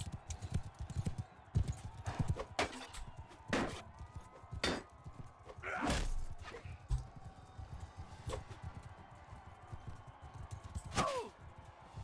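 Horse hooves in Mount & Blade battle combat, irregular thudding clip-clop strikes with sharp impacts scattered across the stretch over a low background.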